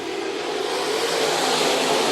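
Modified-class race cars accelerate at Bakersfield Speedway during the Budweiser Nationals, a dense continuous roar of many engines at full throttle, loud and unbroken, with no voices.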